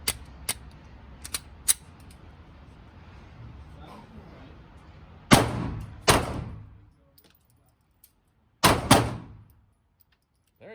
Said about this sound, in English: go ahead, put some rounds downrange